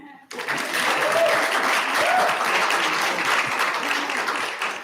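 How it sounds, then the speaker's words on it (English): Audience applause at a live event fills the room right after a sudden start, steady dense clapping holding for several seconds with a few faint voices mixed in. "You can clap."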